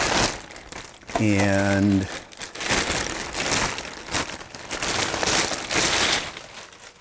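A speaker unit pulled out of a plastic bag, the thin plastic crinkling and rustling loudly up close in several bursts, with someone talking over part of it.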